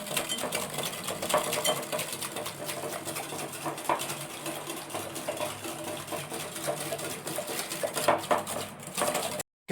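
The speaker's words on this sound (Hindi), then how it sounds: "और अब मैं इसको मिक्स कर लूँगा।" Donut batter being mixed with milk in a bowl for pista chocolate donuts, a steady run of scraping, clinking and sloshing from a utensil against the bowl, close and continuous without talk.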